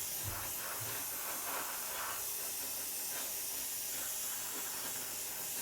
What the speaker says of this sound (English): I'm just going to empty the airbrush so we've got no paint left in there.